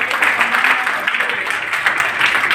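Steady applause from an award ceremony audience in an Indian town, dense continuous clapping held at an even level throughout without a break.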